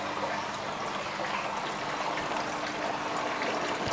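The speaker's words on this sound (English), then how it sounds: "So I'm filling up the water like so." Water trickles and pours steadily into a canister filter during an aquarium filter replacement, a soft continuous stream heard alone, without talk.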